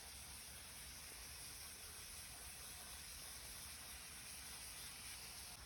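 Water hose rinsing lint-clogged air conditioner coils, a steady broad hiss of spraying water, even and continuous, moderately quiet, with no talking.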